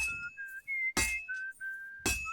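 A character in Kingdom Come: Deliverance II whistles a short tune of sustained clear notes, interrupted by three sharp metallic clinks, like hammer strikes on metal, heard close.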